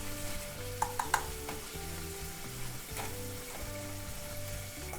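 Garlic sizzles over medium heat in a frying pan for oyster peperoncino pasta, a constant close crackle punctuated by a few sharp clicks of stirring, with background music playing throughout.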